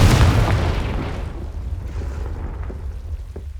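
A Confringo blasting spell in Hogwarts Legacy goes off as one sharp, heavy explosive boom at the start, followed by a long rumbling decay that fades over a few seconds.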